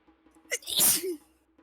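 A single sharp sneeze from a player during a tabletop role-playing game session, close and loud, with a short breathy intake before the burst.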